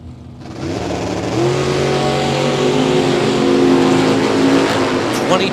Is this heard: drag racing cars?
yes